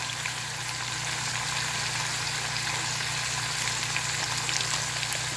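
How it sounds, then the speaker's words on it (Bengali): Spice paste with added coriander powder fries in a pan for a curd-style katla fish curry, giving a constant close sizzle and hiss over a low steady hum, with no talk. "এইবারে এটা আবার 1 মিনিটের মতো আমি একটু কষিয়ে নেব।"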